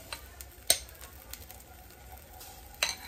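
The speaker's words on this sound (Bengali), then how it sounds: "শুধু একটু তড়কা লাগাবো, মানে ফোড়ন দেব, কারি পাতা আর সর্ষে এবং শুকনো লঙ্কা" Curry leaves, mustard seeds and dried chillies tempering in hot oil for a chutney: a soft, steady sizzle punctuated by two sharp pops or clinks, with no voices.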